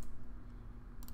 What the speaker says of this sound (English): If I keep typing and I'm typing and I'm typing